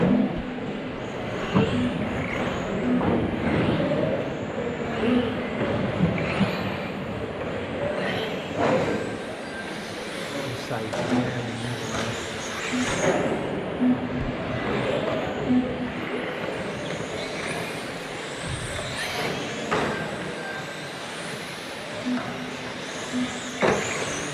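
1/10 scale RC touring cars race on an indoor carpet track, a shifting whine of electric motors rising and falling as cars pass at middling distance, with a busy hall hum and occasional voices underneath.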